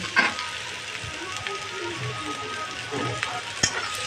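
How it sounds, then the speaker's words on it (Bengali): Apple and cucumber pieces fry in a pan with a steady, soft sizzle and crackle, joined by a few louder scrapes or stirring knocks. No one speaks. "এবার এটা দিয়ে একটু ভেজে নিব আমি ভালো করে"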